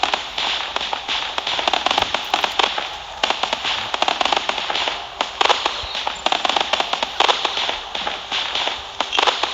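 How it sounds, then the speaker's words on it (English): A video-game fireworks display set off on a portal gives a steady run of rapid crackling pops and bursts. The bursts repeat densely and at fairly even loudness for several seconds, with no voices over them. "Now, if I try to put another set of fireworks on that same portal"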